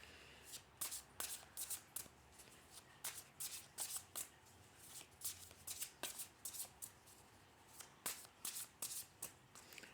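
A deck of tarot cards is shuffled by hand in a repeated series of crisp, papery riffles and slaps, close and fairly quiet, with no one speaking.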